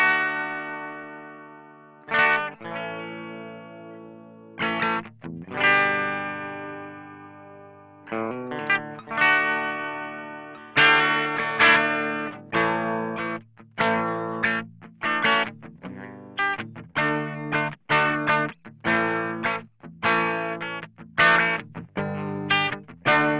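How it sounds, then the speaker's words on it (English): Distorted electric guitar runs through a Hotone BritWind cabinet simulator, playing ringing chords and then choppy, staccato riffs with short gaps between hits, loud and upfront with no talking. "I'll just give you a quick example with the cabinet simulator first"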